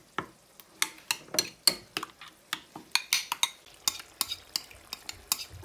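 A spoon stirs spices into a yogurt marinade for tandoori chicken, a close series of irregular wet scrapes and clinks against the bowl, with no voices.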